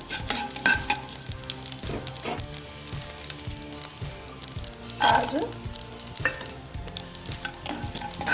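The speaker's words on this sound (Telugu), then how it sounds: "జీలకర్ర, శనగపప్పు, మినపప్పు వేసి వేపుకోవాలండి." Cumin, chana dal and urad dal sizzle in hot oil in a pan while a spoon stirs and scrapes in a rhythm. The sound is close and steady, with occasional metal clinks against the pan.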